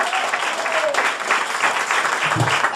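Audience applause welcoming comedian Nikki Wilkinson onto the stage at a comedy night in a Swindon pub venue, a steady wash of clapping that holds at even loudness throughout, with a brief low thump near the end.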